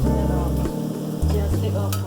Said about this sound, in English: Ready to take off from the deep fry now.